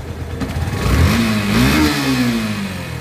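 A Yamaha FZS motorcycle engine, freshly adjusted for tappet clearance, revs up loudly and close by, its pitch climbing in a smooth rise before easing back down, with no talking.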